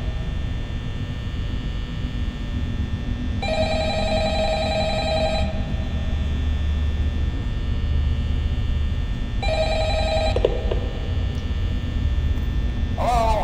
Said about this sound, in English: Who is ringing the phone?